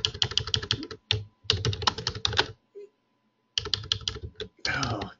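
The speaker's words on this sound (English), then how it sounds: "I can't type with this finger" Someone types rapidly on a computer keyboard during premarket trading analysis, with dense bursts of clicky keystrokes broken by short pauses, close and clear.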